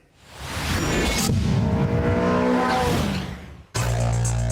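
A Renaultsport Twingo 133 Cup hatchback is driven hard around a handling circuit. Its engine note swells to a loud, sustained drone with a whooshing edge, then drops away before a sudden cut to another loud burst of engine noise.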